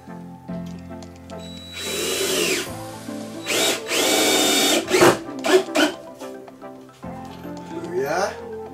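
A power drill driving screws into a wooden swinging porch bench, loud whirring bursts that rise and stop as each screw seats, close up, with some voice sound mixed in.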